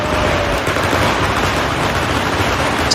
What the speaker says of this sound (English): The cart explodes into a spectacular display of fireworks.